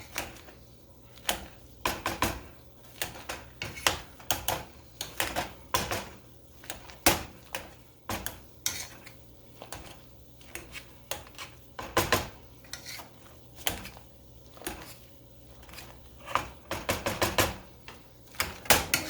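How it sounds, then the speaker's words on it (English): Four large potatoes being mashed in a pot with a metal masher, irregular clanking and tapping knocks against the pot repeating throughout, close and fairly loud with quiet squishing between strikes and no talking. "continue to mash these up a little bit"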